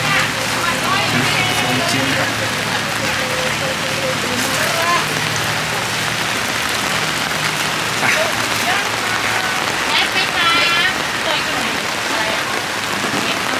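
Heavy rain pours steadily on an outdoor market under a dark storm, a dense continuous hiss of drops hitting surfaces with occasional louder patters, while people talk faintly in the background.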